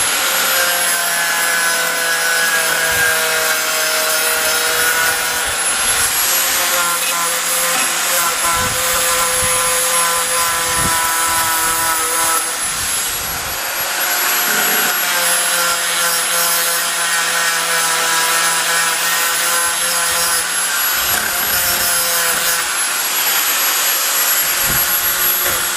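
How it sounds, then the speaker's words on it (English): Angle grinder fitted with a cutting wheel stripping paint from the metal of a David Brown tractor, a loud, steady high-pitched whine with shifting tone as the wheel bites, running continuously throughout. "get my grinder. It's got a cutting wheel. I just need to take off some of the paint here"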